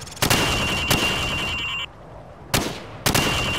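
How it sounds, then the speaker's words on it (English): Rifle shots fired from the hip at a target range in Call of Duty 4: Modern Warfare, four sharp loud cracks spaced irregularly, each followed by a short ringing tail and ambient hum between them. "Now shoot at the targets while firing from the hip."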